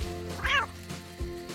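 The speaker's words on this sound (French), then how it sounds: "c'est juste un petit chaton gris qui voulait se réchauffer près du feu." A small grey kitten gives a single rising meow over a low steady background hum, with faint rustling before and after.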